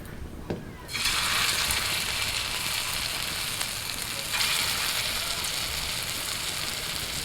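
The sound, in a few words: frying elephant foot yam fritters in mustard oil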